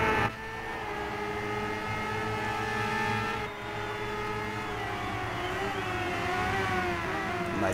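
Engine of a 2017 Kawasaki Ninja ZX10RR superbike in the racing game RIDE 2, a sustained high-pitched whine that holds steady, dips briefly, then climbs again, loud and continuous with no talking.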